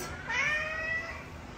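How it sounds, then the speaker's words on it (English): A cat gives one clear drawn-out meow up close, rising and then falling in pitch, with no talking during the call. "Cat."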